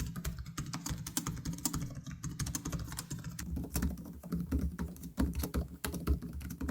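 Rapid, close keystrokes clatter on an Asus laptop keyboard, comparing a TUF A14 and ProArt PX13, a dense irregular patter of key presses with a low background hum and no speech.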